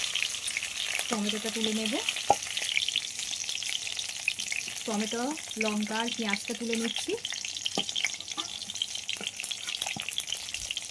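Bitter gourd and potato fry vigorously in a pan, a loud, continuous crackling sizzle close by with occasional stirring knocks, while someone talks over it.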